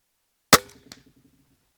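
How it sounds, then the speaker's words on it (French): A single sharp crack from a TenPoint TRX-515 crossbow firing at a target 38 metres away, followed by a short rattling decay and a faint second thud a moment later, with no other sound around it. "j'ai essayé de faire mon tir maintenant à 38 mètres"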